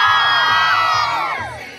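A group of children at a Christian games event in El Salvador let out a loud, sustained shout together, a dense, cheering roar that slowly fades over nearly two seconds.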